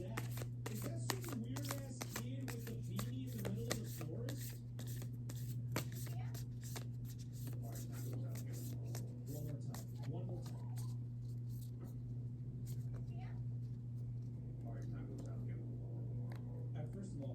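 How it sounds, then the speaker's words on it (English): Tarot cards are shuffled repeatedly with quick riffling and soft flicks, under a low steady hum, while someone speaks quietly at the start. "And then there's another way we can shuffle the cards."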